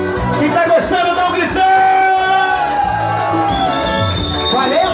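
Crowd at a Thursday-night forró party in Riachuelo shouting and cheering loudly, a dense roar of many voices over live band music that holds steady for about five seconds.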